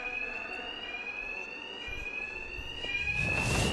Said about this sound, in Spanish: Los matones de Dos Caras no me oirán con la alarma.